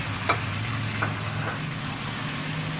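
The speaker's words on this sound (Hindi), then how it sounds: "अब इसको मैं 5 मिनट तक भूनूंगी।" Tomatoes, onions and green chilies fry in a pan with a steady, soft sizzle, broken by a few light stirring taps.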